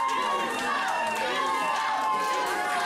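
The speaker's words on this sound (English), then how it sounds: "the crowd telling Attila Khan, you suck." A wrestling crowd at an SICW match between Ricky Cruz and Attila Khan chants in unison, a loud, continuous mass of voices with a rhythmic, sing-song rise and fall that fills the whole stretch.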